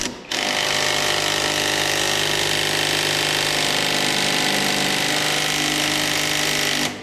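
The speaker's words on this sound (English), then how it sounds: "I'm gonna just tighten it with the gun as much as I can" An impact gun tightens a tie rod nut on a Peugeot RCZ during a tie rod and ball joint job, giving one loud, continuous, steady buzzing hammer that runs for about seven seconds with no talk.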